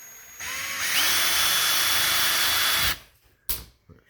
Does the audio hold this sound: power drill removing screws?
yes